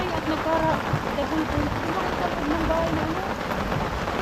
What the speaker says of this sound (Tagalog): Ayan, umuulan ha.